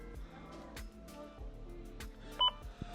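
A self-checkout barcode scanner beeps once as an item is scanned in a German supermarket, a short sharp tone amid faint handling clatter and quiet store ambience.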